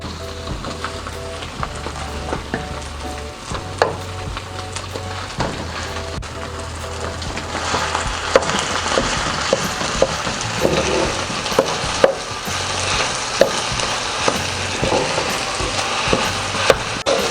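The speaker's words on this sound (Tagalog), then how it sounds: "Ngayon po ay pwede na nating ilagay dyan ang ating glutinous rice." Glutinous rice sizzles and is stirred into thick coconut latik in a pan, with continuous bubbling crackle and repeated scraping strokes that grow louder and busier after the rice goes in, close up and without speech.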